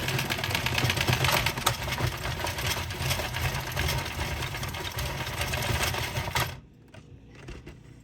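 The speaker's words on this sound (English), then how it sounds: "now we are simply going to crank and let this fall off of our machine." An Addi knitting machine being cranked to release a knitted scarf, giving a steady, loud mechanical clatter and ratcheting that runs for about six and a half seconds, then drops to a few faint clicks.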